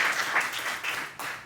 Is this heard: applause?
yes